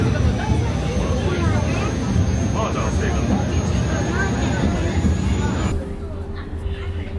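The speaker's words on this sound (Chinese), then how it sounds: "搭船跟搭飞机的声音这么像，" A passenger ferry's loud, steady engine roar drones like a plane about to take off, heard while boarding, with faint voices murmuring underneath; the noise drops off sharply near the end.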